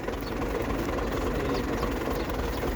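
A tractor engine runs continuously while harvesting wheat with a reaper attachment, a steady mid-pitched rumble and clatter close by with no talk.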